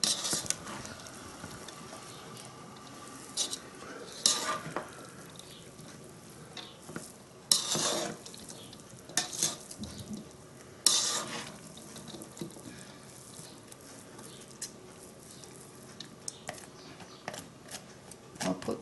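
Fried rice being turned through in a wok with the heat switched off, a utensil lifting it from the bottom: intermittent close scraping and tossing bursts over a quiet background, with no talking.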